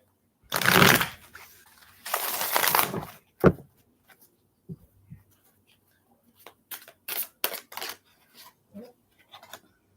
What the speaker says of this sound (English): Let me just shuffle these last deck.